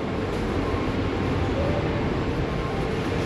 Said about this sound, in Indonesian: Modelnya tuh kereta tua